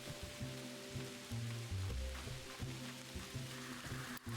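Steady rain patters across the ground in Hello Kitty Island Adventure at night, a soft continuous hiss under layered game music with gentle tonal notes, no voices.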